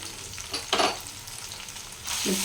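Spices for a jackfruit and potato kasha fry in a pan with a steady loud sizzle and occasional stirring scrapes that bring bursts of hissing.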